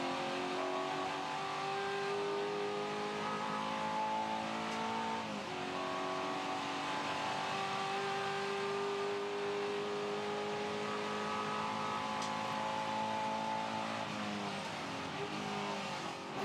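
A race car engine screams at high revs on board during Improved Production qualifying at Hidden Valley, pitch climbing through gears with brief dips at each shift, loud and continuous.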